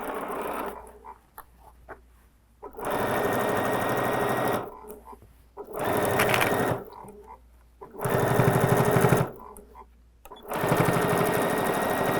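A sewing machine stitches a quarter-inch seam around a tote bag in four separate bursts of steady, close whirring, with quiet pauses between runs.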